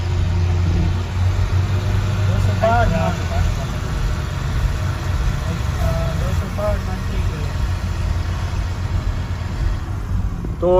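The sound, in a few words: truck engine revving while stuck at Chenab river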